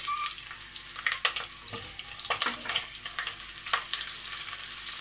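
Onion frying in butter in a pan, a steady close sizzle with bursts of crackle and occasional stirring scrapes, no voices.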